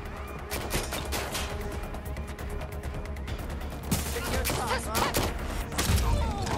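Gunfire in the game Watch Dogs: Legion, rapid bursts of shots crackling through a busy mix, with louder impacts toward the end and a voice talking underneath.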